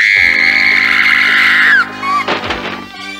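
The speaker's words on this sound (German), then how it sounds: "Könntest du nicht zur Abwechslung mal auf einer anderen Frequenz schreien" A woman's long, loud, sustained scream in a German radio play, held steady for nearly two seconds before breaking off, followed by a short burst of clattering sound effects.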